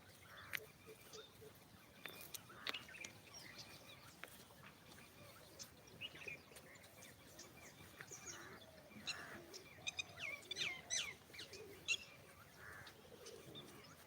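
Scattered bird chirps and calls, faint and somewhat distant, over a soft steady outdoor background.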